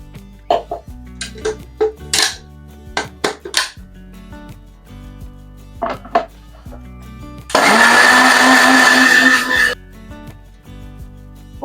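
Blender whirs loud and steady for about two seconds, pureeing mango with sugar, after a stretch of kitchen clatter and short knocks.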